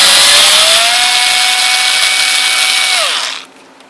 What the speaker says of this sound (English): There's a Torx screw in there,